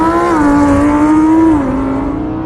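A car launching off the line in a drag race, its engine revving loud and close, the pitch climbing then dropping at a gear change before pulling on.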